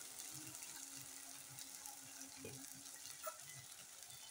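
Ground spices sizzle softly with fried onions in a pan for a meat and potato curry, a low continuous frying hiss broken by faint stirring scrapes.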